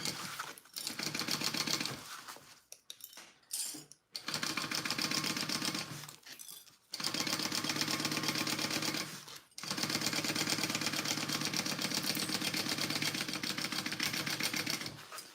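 Sewing machine stitching along the sides of a fabric sling bag, loud rapid mechanical chattering in long bursts with short pauses between seams, no talking.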